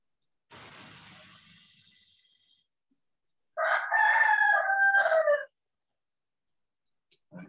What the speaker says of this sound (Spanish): ¿A qué hora canta ese gallo?